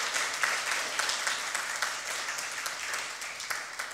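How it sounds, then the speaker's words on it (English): An audience applauding guitarist Tony Zazula at a charity event: steady, dense clapping from many hands throughout, moderately loud and with no talk over it. "Give him a big round of applause."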